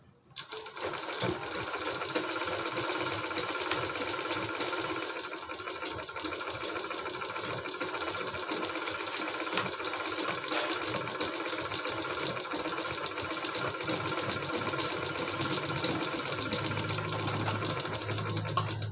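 A sewing machine runs steadily for a long stretch, stitching around the round edge of a fabric cover made from waste cloth, a close mechanical whir with a fast rattling rhythm and no speech.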